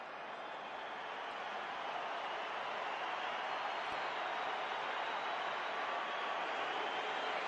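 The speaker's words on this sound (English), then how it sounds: "And even the Colombia fans are applauding him." Colombia fans in a stadium crowd at an Argentina versus Colombia football match applaud, a dense, steady wash of clapping and crowd noise that holds at an even level throughout.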